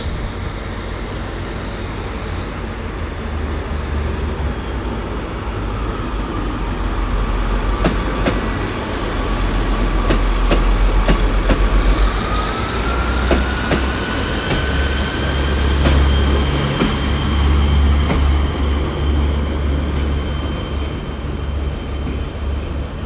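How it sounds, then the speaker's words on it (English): A CrossCountry HST train arrives at Exeter St David's station, a steady loud rumble of diesel engines and rolling wagons with wheel squeal and rail clicks rising and falling across the whole stretch, no voices. "Coming in now, it'll be a cross country HST going to Edinburgh."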